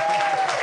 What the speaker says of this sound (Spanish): Un fuerte aplauso para Bernie.